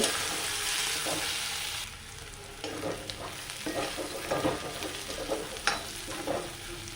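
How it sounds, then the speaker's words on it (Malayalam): Onions and mint leaves frying for a beef roast, a steady loud sizzle at first that gives way to repeated spatula stirring and scraping over a lower crackle. "ഇനി നമ്മളതിലേക്ക് ഒരു പിടി പുതിനയില ഇട്ട് കൊടുത്തു ഇതൊന്ന് നന്നായി മൂത്ത് വരുന്നുണ്ട്"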